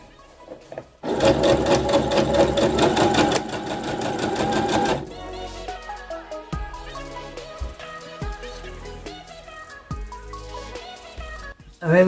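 A sewing machine stitching a bomber jacket, running in a loud rapid burst for a few seconds, then quieter with soft intermittent clicks and handling noises.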